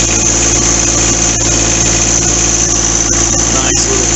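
Close, steady engine drone of a new John Deere 4x4 tractor driving slowly in low gear, a constant low rumble with mechanical vibration and a few faint clicks and knocks over it.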